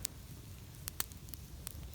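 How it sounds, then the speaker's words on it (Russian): A campfire just getting going outdoors in Karelia gives sparse, sharp crackles and pops over a soft low rumble, quiet and close with no talk. "Ну, костер пусть пока что разгорается."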